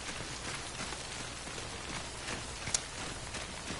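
Rain falls steadily in the Death Stranding video game, a dense even hiss of drops and splashing water kicked up by footsteps, with one brief sharper splash, no talk.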